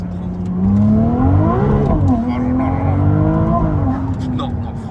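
A Ferrari 296 GTB hybrid accelerating up the ramp onto a highway, its engine note climbing through the revs, dipping at a gear change and rising again, loud and close from inside the car, with a person talking over it.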